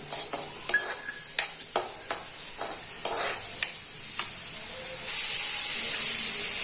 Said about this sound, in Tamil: அதுக்குள்ள வெங்காயம் நல்லா வதங்கட்டும். இதுல பூண்டும் சேர்த்துடலாம், நல்லா வதங்கட்டும்